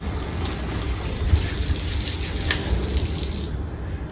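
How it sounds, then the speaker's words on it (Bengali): Tap water runs steadily and fairly loud over a boti, a curved cutting blade, as it is washed, with a continuous splashing rush and no voices. "মার এই বটিটা ধুয়ে রেখে দিই"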